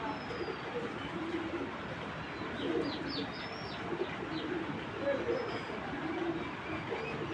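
A racing pigeon gives a few soft, low coos against a steady background hiss, with brief chirps overhead and some quiet talking nearby.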